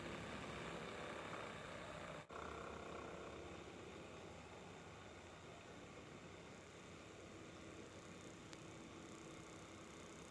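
A toroidal BLDC motor running on a bench power supply, a steady broadband hum and whir held at constant level throughout, faint and unbroken apart from a tiny dip early on.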